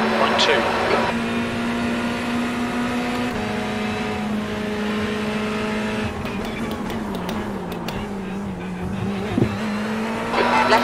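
Ferrari 488 GT3 Evo racing engine in the iRacing game at Red Bull Ring, a loud sustained engine drone that holds steady and then shifts pitch as the car changes gear, with a voice speaking over it.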